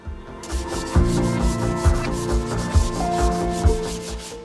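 Pallet wood is sanded with high grit sandpaper in loud, steady rhythmic strokes, each back-and-forth rub rising and falling close by, with no voices.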